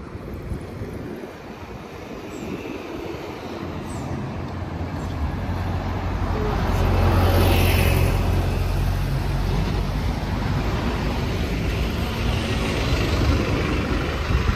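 A London bus on route 453 pulling in and idling at a stop, its low diesel rumble swelling midway and then holding steady over outdoor street noise, with no talk.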